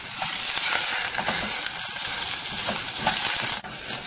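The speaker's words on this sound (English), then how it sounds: "Now keep cooking while stirring constantly until golden brown." Onion and minced garlic fry in olive oil with a steady, close sizzle, while a spoon stirs through the pan in soft, repeated scrapes.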